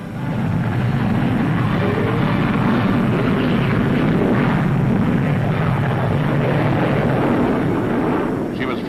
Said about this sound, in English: An old friend in a new role, the Gloucester Meteor, in the guise of a ground attacker and apparently with plenty of rockets for the job.